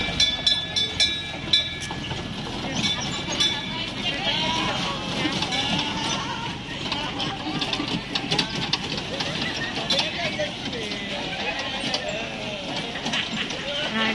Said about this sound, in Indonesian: Ini kereta api aja ya, Nak ya.